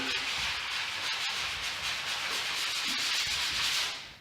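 A sanded drywall patch is worked in small circular motions, producing a continuous, close, rasping hiss that holds steady before trailing off at the end.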